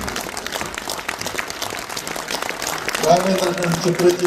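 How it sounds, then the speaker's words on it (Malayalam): An audience at a Lions Club award ceremony applauds the award winners with a scattered patter of hand claps. A voice speaks over the applause, and the clapping swells louder near the end. "നമുക്ക് എല്ലാവർക്കും ഒന്ന് എണീറ്റ് നിന്ന് നല്ലൊരു കയ്യടിയോടുകൂടി പ്ലീസ്"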